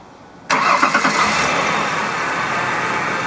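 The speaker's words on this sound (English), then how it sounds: "So I'm going to go start the car with these attached" A car engine cranks and catches abruptly, then settles into a loud, steady running rumble close by, while a multimeter is clipped to the battery terminals; no voices are heard.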